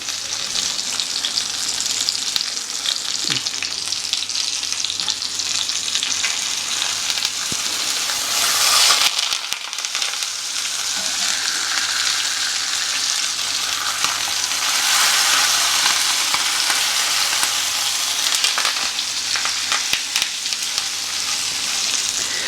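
Fish frying on a hot tawa as curry leaves are added, giving a steady loud sizzle and crackle throughout, with a brief burst of stirring or spattering partway through.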